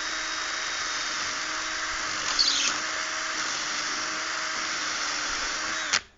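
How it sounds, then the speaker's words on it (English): A power drill drives a screw into the edge of two joined pieces, whining at a steady high pitch throughout, close and loud, with a brief rattle midway and a sharp cutoff near the end. "So I'm going to pop a screw right in the edge here to hold these two together."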